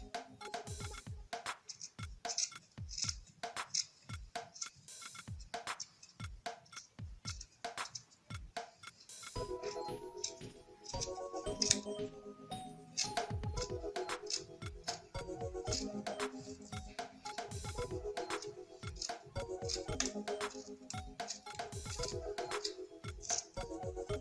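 Scissors snip through fabric for homemade winter socks, with quick repeated crisp clicks at a steady, close rhythm throughout.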